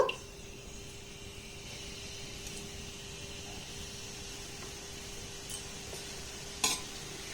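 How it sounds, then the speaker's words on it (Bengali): Flower-shaped pitha frying in medium-hot oil, giving a faint, steady hiss that runs evenly throughout with a brief sharper crackle near the end. "যে ফুলগুলোকে বানিয়ে নিয়েছি সেটাকে তেলের মধ্যে দিয়ে দেব"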